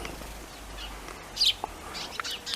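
Small seed-eating birds at backyard feeders give a few high, thin chirps and tweets, scattered and fairly close over a quiet outdoor hush.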